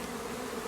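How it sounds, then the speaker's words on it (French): Honey bees hum steadily at the entrance of a hive just after a first swarm has been hived, a dense continuous buzz that stays close and even for a brief moment. "Donc déjà on peut voir les abeilles devant et battre le rappel, c'est bon signe."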